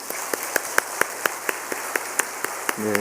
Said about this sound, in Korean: 우리 자녀들을 위해서 우리 어른들이 힘차게 격려의 박수 한번 하겠습니다